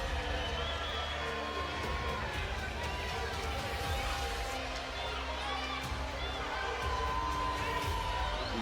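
Football supporters keep up a steady, loud roar of cheering and shouting at the end of a match, a dense continuous crowd noise with occasional higher whoops and no clear pauses.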